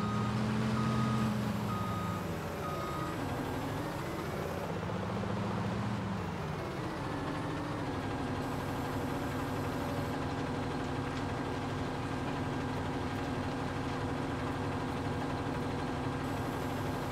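A farm machine driving in Farming Simulator 19, its steady engine drone running alone throughout with a repeating warning beep early on, moderately loud and unbroken.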